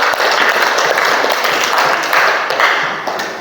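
Classroom children clap together in a brief, dense burst of applause, steady and fairly close, with a few voices mixed in.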